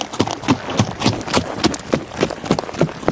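A riding horse clip-clopping at a steady trot, sharp regular hoofbeats close and clear throughout, used in a folklore audio drama.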